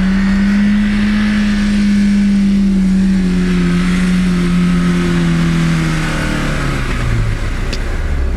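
A Lada Niva stuck in sandy ground revs hard and steadily, its engine note climbing and then sagging as it strains, loud and close with no talking.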